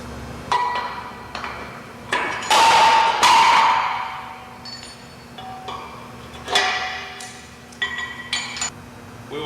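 Heavy metal parts clank together as a pivot head is fitted to the dozer of a Champ 10-ton Versa-Puller frame machine, irregular close knocks and ringing clinks with a low steady hum underneath.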